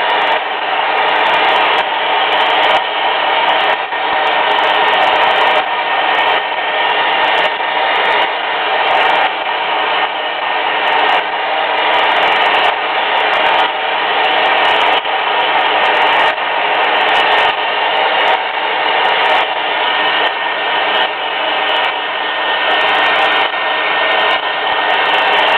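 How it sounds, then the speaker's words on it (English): Handheld hair dryer blowing continuously at close range to dry paint on a dog painting, a steady loud whoosh that holds unbroken throughout. "These hair dryers are wonderful tools"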